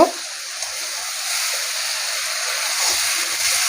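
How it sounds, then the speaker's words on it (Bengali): Green jackfruit and potato dropped into hot spiced oil set off a soft thump, then a steady, even hiss of frying that holds for a few seconds. There is no talking. "আমি এইবার ইচোর আর আলুটা এর মধ্যে দিয়ে দিলাম দিয়ে একটু নাড়াচাড়া করব"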